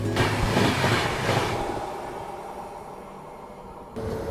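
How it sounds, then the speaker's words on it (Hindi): The Haridwar Bandra Express rushes past on the adjacent track, a loud broadband roar of passing coaches that fades over a few seconds before a brief return of noise at the end, heard from another moving train. "हरिद्वार बांद्रा एक्सप्रेस हमें ओवरटेक करके जा रही है"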